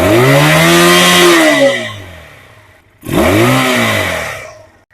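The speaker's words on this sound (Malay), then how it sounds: "Alright, this one is the sound of the twin cylinder carburetor." A CMC Daytona 250 cafe racer's twin-cylinder carburetor engine is revved hard twice, each loud blip climbing in pitch and then sagging back toward idle.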